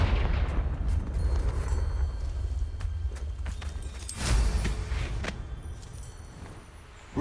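Confringo spell explosion in Hogwarts Legacy, a deep booming blast that swells midway and rumbles out over low background rumble, with scattered smaller impacts.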